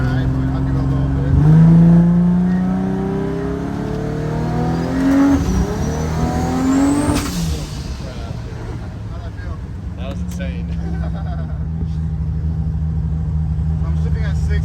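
A 1994 Toyota Supra with a six-speed manual pulls hard along an open road, its engine note climbing steeply through the revs, then dropping at a gear change and settling into a steady drone, loud and close.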